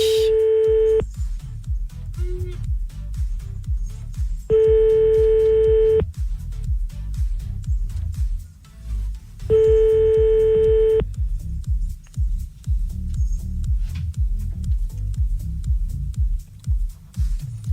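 Telephone dialing tones for a radio prank call: three long steady electronic tone bursts spaced a few seconds apart, over a continuous low background rumble, with no speech.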